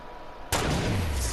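Sniper rifle shot in a multiplayer shooter video game, a single sudden loud blast with a booming low tail after quiet background.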